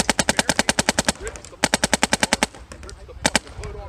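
A Macdev Prime XTS airsoft gun fires two rapid full-auto bursts of evenly spaced sharp snaps up close, followed by a short pair of shots, with faint background noise in the gaps.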